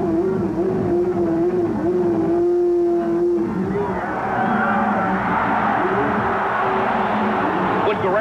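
A 1987 Indianapolis 500 Indy race car engine idles and revs loudly in pit lane, stuck in gear, with a steady droning pitch that shifts and rises midway amid crowd and pit noise.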